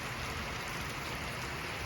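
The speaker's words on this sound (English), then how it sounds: "it is raining out here" Steady rain falls outdoors in Oregon, a dense, even hiss that holds without a break throughout.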